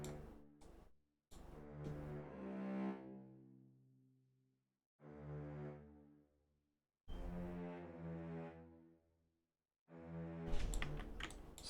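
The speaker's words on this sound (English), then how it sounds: "this bass sounds like this" A synth bass line from a jazz punk beat plays in three separate bursts of sustained, deep repeating notes with gaps of silence between them, loud and upfront with no talking.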